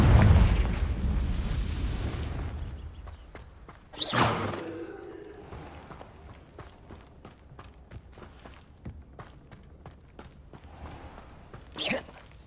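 Magical blast spells fired in Hogwarts Legacy, a video game: a sharp booming burst near four seconds and another at twelve, over a rumbling battle bed with a voice shouting spell names.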